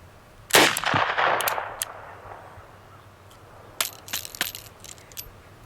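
Zip22 .22 pistol shot that fails to eject: one sharp crack with a short metallic rattle after it, then a second burst of clicks and clatter from handling the action.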